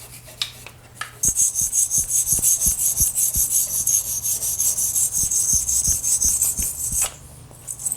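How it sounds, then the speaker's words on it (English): A bristle brush scrubs surface scale off aluminum parts of a barn-find 1972 Honda CB450 cafe racer. The scraping strokes are loud, close and rhythmic, with a few sharp knocks between them and no talking. "bristle brush just to kind of get in some of these nooks and crannies. Just kind of get some of this surface scale off of the aluminum"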